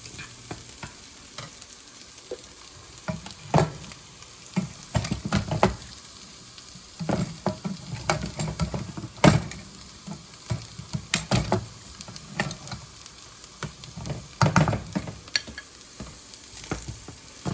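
Potato chunks fry in butter in a pan, a steady crackling sizzle broken by repeated scraping and tossing as they are stirred, close and fairly loud with no voices.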